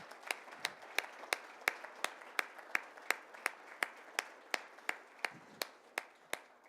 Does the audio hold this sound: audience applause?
yes